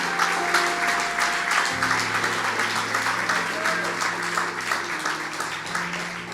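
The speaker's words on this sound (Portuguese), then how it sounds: "Pode aplaudir o Senhor." A church congregation at a Sunday service in Lisbon breaks into sustained applause, a steady dense wash of clapping filling the room with a low hum beneath it.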